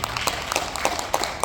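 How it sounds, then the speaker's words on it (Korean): An audience applauding at an MOU signing ceremony in Pohang, South Korea, a brief scattered round of clapping, fairly faint and roomy. "박수 한번 주십시오"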